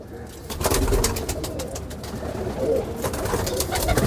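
Kamagar pigeons from an old bloodline coo close by, a low throaty rolling sound repeating over a steady background, with some voices faintly present.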